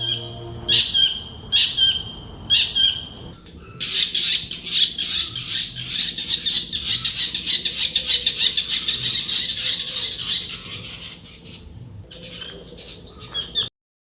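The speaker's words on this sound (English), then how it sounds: "It is the kingfisher." A kingfisher calls repeatedly: a few sharp chirps first, then a dense run of high, rapid squawking notes that continues for several seconds before fading.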